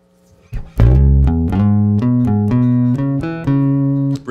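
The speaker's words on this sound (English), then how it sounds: "Neck pickup sounds like this." A Spector Woodstock bass guitar on its neck pickup plays a short melodic line with warm, round low notes, loud and close, each note plucked and sustained in turn.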